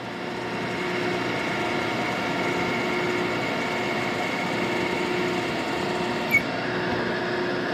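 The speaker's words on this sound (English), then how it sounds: "I'm just drilling down through into the aluminum." A drill boring down through aluminum on a steam engine part in a home workshop, giving a steady, continuous whirring machine drone throughout at a constant level, close by, with no talk.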